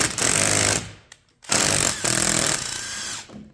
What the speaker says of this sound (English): I'm going to take that bolt out of the end there.